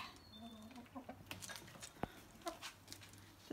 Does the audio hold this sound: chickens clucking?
yes